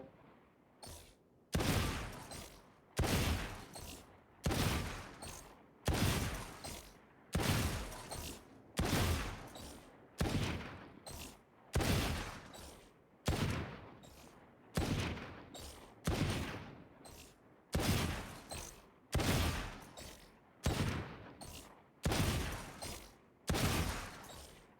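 Gunshots in a first-person shooter aim trainer, roughly twenty sharp loud reports fired one at a time in a steady, fairly rapid rhythm, each with a short decaying tail and brief gaps between.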